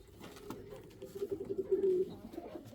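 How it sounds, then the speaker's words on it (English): Small chicks peeping in a steady, busy chorus, close by, with the soft calls building in the middle and continuing to the end. "Have a look at these chicks as yet."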